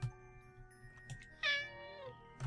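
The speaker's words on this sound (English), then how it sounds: "The cat has now joined us." A real house cat meows nearby, one clear drawn-out meow in the middle framed by faint low noises, heard alone without speech.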